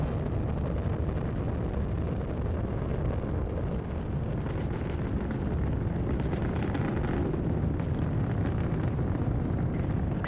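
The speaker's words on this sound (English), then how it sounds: "Discovery's engines are throttling down as the orbiter passes through the area of maximum pressure on the vehicle" Space Shuttle Discovery's engines roar through launch ascent on mission STS-120, a dense, distant, continuous rumbling thunder that holds steady and crackles faintly without pause.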